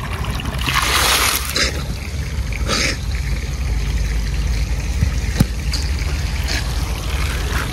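Water gushes from an opened outlet on a farm tank and flushes out built-up dirt in a steady, close, rushing flow. The stream swells and splashes for short moments, with one sharp knock partway through and no speech.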